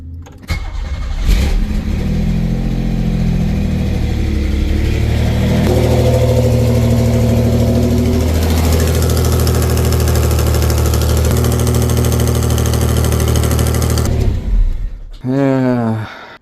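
A Pontiac Fiero GT engine cranks, starts and idles steadily after exhaust manifold repair, a loud close rumble that holds for most of the time before shutting down, with a voice briefly heard near the end.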